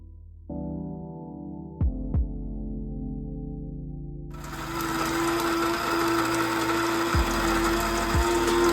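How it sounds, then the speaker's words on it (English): A coffee grinder grinds almonds to a fine meal, starting with a steady motor whine, then turning into a loud, coarse rattling roar as the nuts break up, running continuously without talk. "It's a coffee grinder, but we basically just want that same consistency of ground coffee with these almonds."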